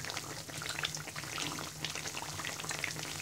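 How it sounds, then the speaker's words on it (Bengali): Egg pantua pitha fries in hot oil with a dense, continuous bubbling crackle, close and fairly quiet, and nobody speaks. "এবার এপিট ওপিট ব্রাউন কালার করে ভেজে নিব"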